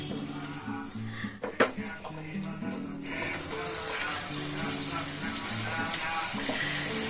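Spice masala with a spoonful of sugar cooks in a pan, giving a steady close sizzle and hiss with a few sharp clinks of utensils near the start. Faint background music runs underneath.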